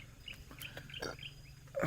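Small wild birds chirp in short, scattered calls at a forest camp, fairly faint over a quiet outdoor background, with a louder call at the end.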